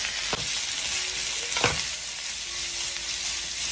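Sliced onion and shredded cabbage sizzle steadily in a hot pan, with a couple of sharp spoon scrapes against the pan, close and with no voices.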